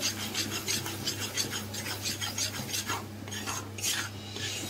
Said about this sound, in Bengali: বেসনটাকে ভালো করে ভেজে নেব।